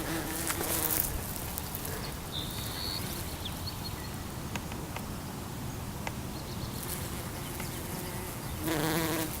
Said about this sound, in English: with like a bee on a flower right here